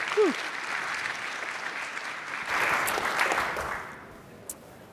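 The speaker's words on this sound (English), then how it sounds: "So let's cheer and applaud for Elliott and Brian from Equifax." A conference audience at a FinOps X 2024 session claps and cheers for two presenters from Equifax, a broad even applause swelling midway, then thinning and fading toward the end.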